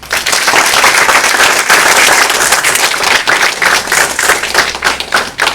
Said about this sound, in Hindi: वे तालियों के साथ उनका भी स्वागत करें